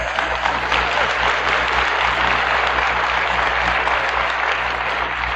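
Audience applause for a 1964 speaker, a dense, steady burst of clapping from a large hall, loud and continuous with a faint low hum underneath.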